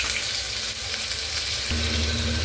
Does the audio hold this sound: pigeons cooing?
no